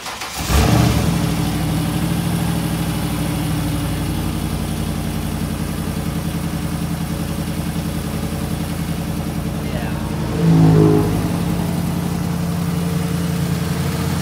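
A Ford truck fitted with a Cummins 5.9 turbo diesel engine idles steadily with a low, rumbling drone, briefly rising in two short revs near the start and again around ten seconds, close and loud.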